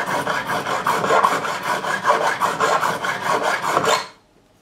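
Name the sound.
filing a fret on Garrison AG-700 guitar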